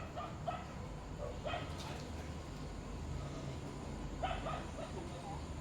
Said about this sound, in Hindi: कुत्ते भौंक रहे हैं, देखती हूँ कोई आया तो नहीं